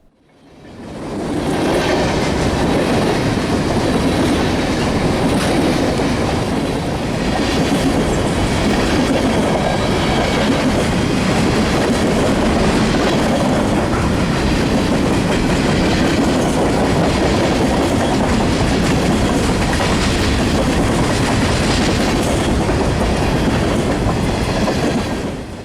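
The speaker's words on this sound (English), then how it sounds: "Yet another Heritage 2-9 was leading this northbound potash train, seen at a quiet crossing approximately halfway between Clifton and Meridian." A northbound potash freight train led by a Heritage locomotive rolls past a quiet rural crossing, a loud continuous rumble with rhythmic clickety-clack of wagons lasting the whole passage.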